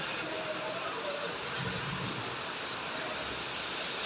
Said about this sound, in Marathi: बघा जोरदार पाऊस येत आहे एकदम